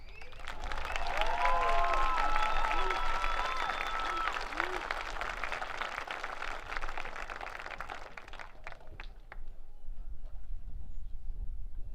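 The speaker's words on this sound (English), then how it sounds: "We are applauding you and wishing you nothing but success in your future endeavors." Graduation audience at a Highland Community College ceremony applauding the graduates, a dense wash of clapping and crowd noise that tapers off, with faint voices and tones over it early on.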